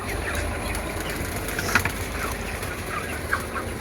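Chickens on a poultry farm during lifting day at the end of a broiler batch, faint scattered clucks and brief calls over a steady background rumble, with no talking.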